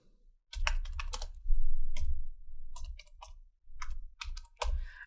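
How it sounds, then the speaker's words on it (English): Close, crisp keystrokes on a computer keyboard at a Windows 11 PC, clattering out in several quick bursts separated by short pauses, with no voices. "Here just type Java -version."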